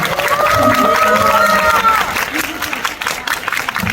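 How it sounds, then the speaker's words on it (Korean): An audience at a Korean film screening with Q&A applauds and cheers, the clapping mixed with crowd murmur and voices talking over it, loud and close. "박수 한번 해주세요."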